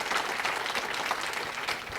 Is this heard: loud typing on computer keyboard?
no